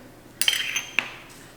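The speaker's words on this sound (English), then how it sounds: "The first thing I'm going to do is going to take the dry ingredients and blend them all together." Dry ingredients are mixed together in a bowl, with two sharp utensil clinks against the bowl over quiet room tone and no talking.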